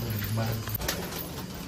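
Pigeons cooing close by in a loft, soft low coos under a man's speech.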